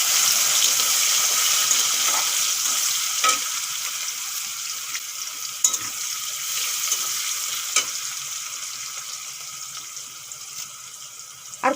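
Chopped onions frying in hot oil with asafoetida and cumin, giving a loud, steady, close sizzle throughout, gradually easing, with occasional clicks of a spoon stirring and no talking.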